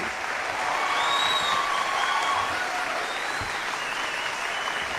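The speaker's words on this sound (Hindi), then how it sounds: "कैसे लगी आप मुझे बता दीजिए अपनी तालियां।" Steady audience applause follows a poem recital at a Hindi poetry event with Kumar Vishwas, a loud dense wash of clapping from a large crowd that holds evenly for five seconds.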